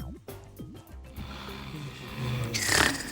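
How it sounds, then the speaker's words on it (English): Cartoon snoring in a children's arts and crafts show, a few rhythmic snorting inhales followed by a hissing, whistling exhale, loud and close. "Who's that snoring?"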